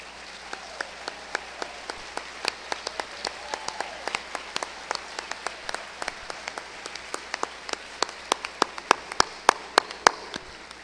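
Sparse, scattered clapping at a Western Heritage Awards banquet as past award winners and inductees stand, individual claps popping out distinctly over a soft room background rather than a dense ovation.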